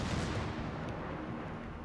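Naval artillery fire in World of Warships: Legends rolls out as a dense, sustained low rumble with a heavy boom-like wash that fills the short stretch, loud and without talk.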